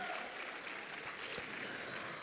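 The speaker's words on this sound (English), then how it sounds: "Let's give them a big round of applause." Steady applause from a school talent show audience, clapping continuously at moderate volume throughout without a break.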